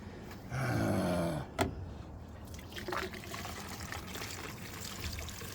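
Fuel glugs and pours into a plastic tank on a Jeep for about a second and a half, then a brief clunk and faint trickling and dribbling follow at close range.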